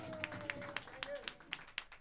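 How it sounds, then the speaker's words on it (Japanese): Scattered claps ring out in a music shop during a band contest, with about nine spaced, moderately quiet slaps and a faint sustained tone beneath. "拍手。"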